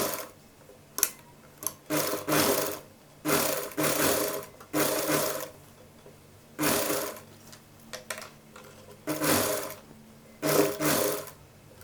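A sewing machine stitches cord onto the neck of a child's Patiala dress, running in a dozen short, steady bursts separated by brief pauses, close and alone.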